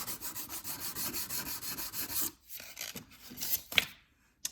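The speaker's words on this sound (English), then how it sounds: "now that our spackling is dry, you can actually come back in and start sanding it" Dried spackling on wood trim sanded by hand, a close rhythmic rasping rub in quick repeated strokes, then a few slower scrapes with short pauses and near silence at the end.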